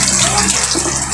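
Water poured into a cooking pot while making chicken sotanghon soup, a loud, close, continuous gushing splash filling the short moment.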